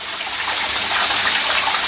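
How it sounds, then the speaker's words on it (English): Water rushing into a pond filter house from a pump, a loud continuous gushing splash close by with no break and no talking. "Water's flowing in nicely."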